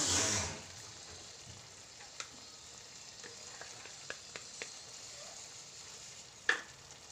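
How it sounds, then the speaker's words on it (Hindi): Cheese is stirred into Indian-style macaroni pasta in a pan, giving a soft, low sizzle with a few scattered light clicks of the spoon against the pan. "अब हम इसमें चीज़ भी मिक्स कर देंगे"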